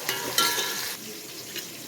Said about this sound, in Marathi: तोपर्यंत आम्ही त्याला फोडणी घालते भाजी